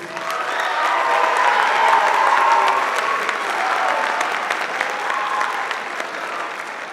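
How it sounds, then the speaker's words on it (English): Loud, sustained applause with some cheering from an audience at a 7th and 8th grade spring school band concert, honoring a trumpet player; the clapping swells and then gradually eases. "cheer one more time for Jordan on the trumpet"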